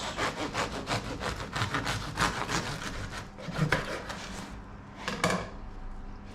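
A knife saws back and forth through a loaf of homemade white bread, giving rhythmic, close rasping strokes with a crunchy crust texture, heard alone.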